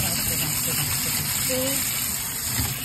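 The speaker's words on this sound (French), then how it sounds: "Donc je vais rincer." Steady rushing water rinsing a piece of Aida cloth dyed with natural dye, a continuous even gush with some low background rumble.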